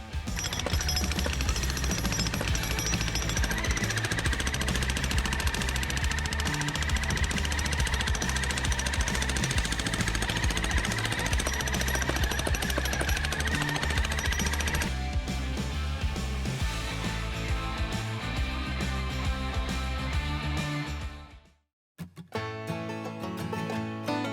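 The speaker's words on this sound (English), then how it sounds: "we're gonna have to use some elbow grease and do some jackhammering" Jackhammer breaking up rocks at a lake house, a loud continuous pounding rattle that runs for about twenty seconds, changes tone partway through, then cuts out briefly before resuming.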